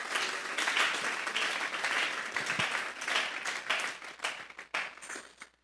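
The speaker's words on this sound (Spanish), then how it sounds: "Vamos a darle un fuerte aplauso pues al Señor." A church congregation gives a loud, sustained round of applause during a sermon, dense clapping filling the room and thinning out toward the end into scattered claps.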